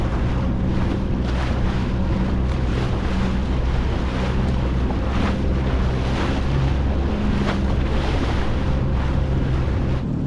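A Yamaha VX Cruiser personal watercraft pounds across rough ocean with two- to three-and-a-half-foot waves, a loud, unbroken roar of engine, rushing water and heavy wind buffeting the microphone, with no talking.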